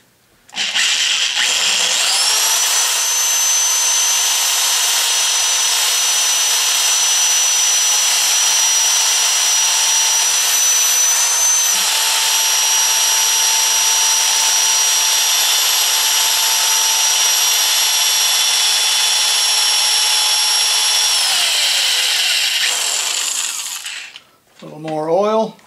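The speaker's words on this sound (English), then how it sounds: "I'm using my Black & Decker hole gun, one of the finest drills ever made, old school, with a cord." An old corded Black & Decker electric drill with a 3/16 bit runs at full speed for about twenty seconds, a loud, steady, high whine close by that then winds down, followed by a brief voice.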